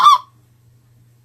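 A Triad Killer goose call gives one short, sharp, close honk, then silence with only a faint low hum.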